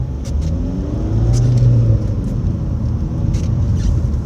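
Car accelerating hard on a road, a loud close engine roar rising in pitch through a gear, with steady rumbling road noise and no voices.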